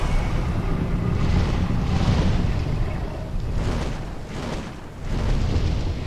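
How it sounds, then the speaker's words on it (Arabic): A wind attack in Conan Exiles, tied to the Jhebbal Sag religion and avatar, roars as a loud, steady gust of rushing air for several seconds, swelling and dipping slightly without any voices. "بس هجوم رياح"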